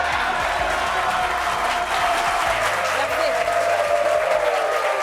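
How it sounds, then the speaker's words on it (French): A studio audience on a television show set applauds continuously, dense steady clapping from a crowd close around, with a voice speaking over it. "Applaudissements"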